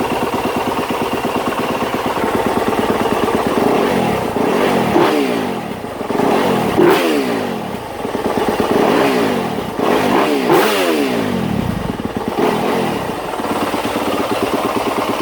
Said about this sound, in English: Okay, I have the bike idling right now.